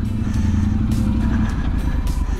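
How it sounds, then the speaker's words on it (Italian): Loud, close engine roar of a vehicle on a high-altitude Chilean route near Laguna Chaxa and Piedras Rojas, a steady low rumble with rattling clatter throughout. "Il rombo da Tenerona è inconfondibile."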